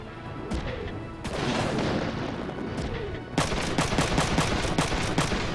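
Shotgun fire in Front Mission 3 battle: a run of sharp, loud blasts that grows denser and more rapid toward the end, heard alone without talk.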